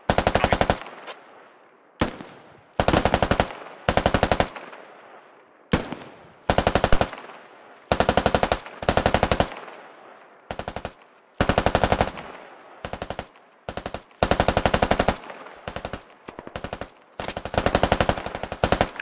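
Medium machine gun fire from the tactical shooter SquadOps: repeated loud, close bursts of rapid automatic shots separated by short pauses, with the rhythm irregular throughout.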